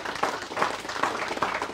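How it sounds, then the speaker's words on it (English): Audience applause for three finalists at a women-in-farming final held at the National Ploughing Championships, a steady wash of clapping with periodic swells, moderately loud. "would you give the 3 finalists a big round of applause?"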